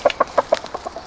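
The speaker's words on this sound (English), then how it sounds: "This is another one of our roosters here." A rooster clucks in a quick string of about eight short, bright calls, close and clear, with the later ones softer and more spread out.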